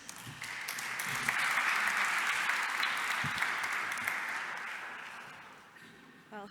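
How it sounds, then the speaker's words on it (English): Sustained audience applause fills a hall at an event, building quickly, holding steady as a dense wash of clapping and slowly thinning out toward the end. "a warm round of applause,"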